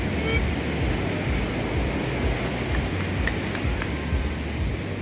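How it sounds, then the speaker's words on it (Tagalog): Steady roaring surf of strong waves washes in without pause on Urbistondo beach, San Juan, La Union, broad ocean noise with wind rushing across the microphone. "Lalakas ng alon"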